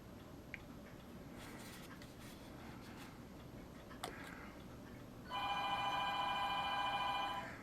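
A telephone starts ringing partway through, a steady electronic ring that continues to the end. It sounds fairly close but faint, over quiet room hiss and a few small clicks, with no one talking.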